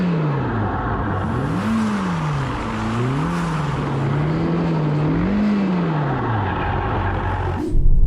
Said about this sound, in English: let's take this Ferrari Roma for a drive